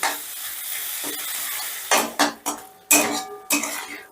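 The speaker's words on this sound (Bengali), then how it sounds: "এবার মশলাটাকে বেশ কিছুক্ষণ কষে নেব, যতক্ষণ না মশলা থেকে তেল ছেড়ে দিচ্ছি" Spice masala sautéed in oil for an egg and brinjal curry, a steady sizzle broken by several loud scraping strokes of a spatula against the pan in the second half.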